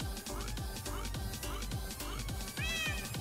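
A cat meows several times in quick succession, loud and close, over a busy Minecraft game soundtrack with rhythmic background sounds.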